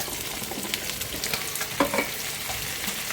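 Taro stolons hit a pan where potato is already frying, raising a busy close sizzle broken by scraping stirs and small clatters, with no talking.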